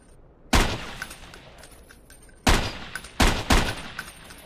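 Gunfire at shooting range targets in the original Ghost Recon: sharp, loud shots, first a lone crack, then another, then a quick cluster of three, each with a short ringing tail, close and alone.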